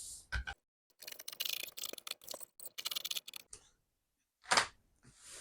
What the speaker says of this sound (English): I'm going to be cutting the pattern, cut and slash method